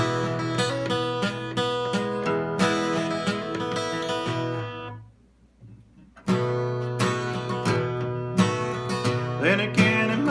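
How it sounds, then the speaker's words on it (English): An acoustic-style guitar plays a fill as quick, ringing plucked notes, pauses briefly as the sound dies away, then resumes the picked phrase clearly and up close. "after you play that, you're going to go back and play the old fill"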